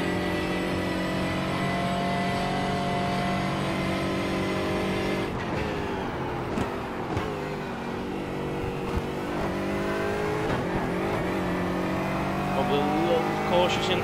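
GT4 race car in iRacing at Imola, its engine droning steadily and close with harmonic tones rising and falling through gear shifts across a qualifying lap, under occasional commentary.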